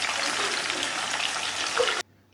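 Marinated chicken fries in hot oil with a loud, close, steady crackling sizzle that cuts off abruptly after about two seconds.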